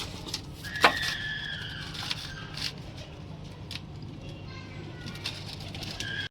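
Pigeons in a village, a sharp flutter of wings near the start, then soft scattered bird sounds and rustling against steady outdoor background noise, with people talking.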